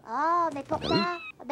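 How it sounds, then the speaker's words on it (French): A Siamese kitten in a 1985 French children's TV programme gives a clear, close, drawn-out meow, and voices speak right after it. "Il miaulait à tous les échos."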